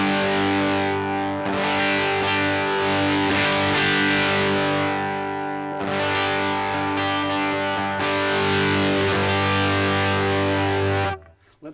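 An electric guitar through a Walrus Audio Iron Horse V2 LM308 distortion pedal rings out in sustained, harmonically rich distorted chords, with a few changes, cut off abruptly at the close.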